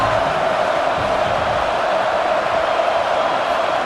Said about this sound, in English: this crowd coming to life here trying to help the defense get a stop